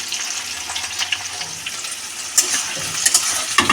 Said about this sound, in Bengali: আলুগুলো এবার লাল লাল করে ভেজে নেবো।